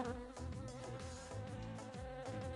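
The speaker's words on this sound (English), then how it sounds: "Bees are buzzing. They are gathering honey." Bees buzz while gathering honey in a cartoon scene, a close, continuous droning hum that wavers in pitch, heard alone without voices.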